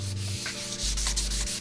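A painted Harley Sportster motorcycle part is sanded by hand, giving close, repeated rubbing strokes in a steady back-and-forth rhythm with a low hum beneath.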